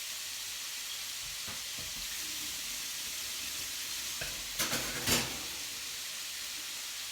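Bolognese sauce fries in a pan with a continuous close sizzle and hiss. A few short clattering bursts come near the end.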